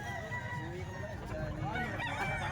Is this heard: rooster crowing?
yes